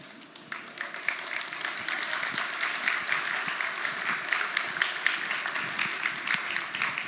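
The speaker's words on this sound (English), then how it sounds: "let's give a round of applause to Minoru Usui." An audience at a technology keynote gives a steady round of applause, a soft, dense patter of many hands that swells after the start and continues evenly, heard at a distance.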